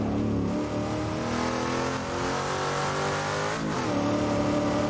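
A 1976-77 Bathurst touring car engine at full throttle in a racing video game, a loud continuous mid-pitched roar that climbs steadily, dips briefly at a gear change, then pulls hard again with no talk over it.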